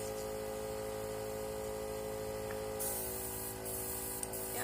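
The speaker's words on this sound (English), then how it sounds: "screw this on, spray it through again," An airbrush makeup gun sprays plain air in a steady, close hiss with a faint mechanical hum beneath it, brightening partway through as the flow picks up.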